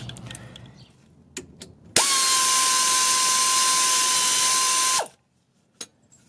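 A tool loosens a 14mm bolt on the rear toe arm of a Honda Civic or Integra during a compensator toe arm install, one loud, steady whirring burst of about three seconds between a few faint clicks and clanks.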